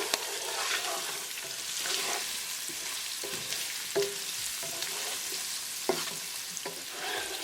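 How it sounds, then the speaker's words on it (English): Paneer and spices (salt, black pepper, red chili flakes) frying in a pan on medium-low heat, a steady close sizzle with scraping stirs throughout. "Cook spices along with the paneer for half a minute"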